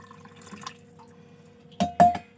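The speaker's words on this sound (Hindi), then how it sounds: "और यही गर्म पानी इसमें डाल दूँगी।" Hot water is poured into a container in a kitchen, with two short, close splashing gushes near the end after a near-silent stretch.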